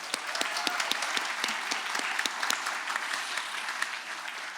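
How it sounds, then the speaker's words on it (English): Audience applause at a municipal election candidates' event for ward council and mayor, steady clapping from a crowd filling the room with sharp individual claps standing out, no voices over it. "Give her a round of applause."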